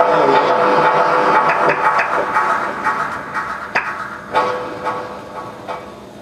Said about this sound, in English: the trolley car screeching